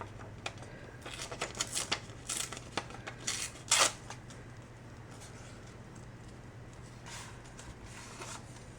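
Paper is torn by hand for a mixed-media art journal, a few short crisp ripping bursts close by over a low steady hum, followed by quieter rustling.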